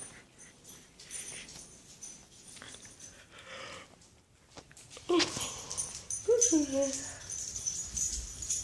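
A pet dog indoors whimpers and whines softly in short, rising cries, a few at a time, close by and fairly faint, with quiet talk and household noise around it.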